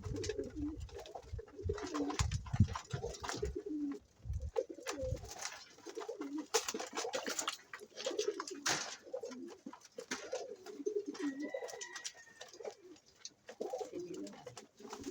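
Racing pigeons cooing in a loft, a steady stream of soft, throaty coos and murmurs from several birds close by, continuous across the whole stretch with faint rustling beneath and no talking.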